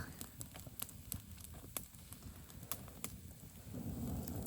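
A campfire crackles quietly and close, with sharp scattered pops and snaps over a soft low hiss, the burning growing a little fuller toward the end.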